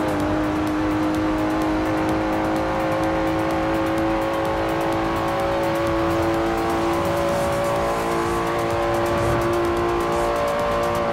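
A car in the Forza Horizon 4 video game drives loud and fast through a city, a sustained engine drone that holds a steady pitch throughout without talk.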